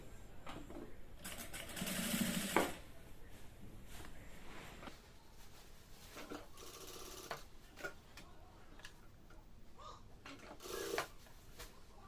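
A domestic sewing machine stitches salwar fabric and piping in short, separate bursts of rapid whirring, some longer and some brief, with quiet pauses between and faint background noise.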